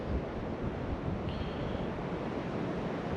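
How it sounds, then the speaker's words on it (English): Strong, steady wind blasting across the microphone at a fishing spot, a dense continuous roar with low rumbling buffets and no voices. "The wind's really tough"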